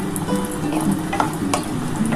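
Lentil dumplings (bori) sizzle steadily in hot oil up close, with a dense continuous frying crackle and occasional stirring clinks.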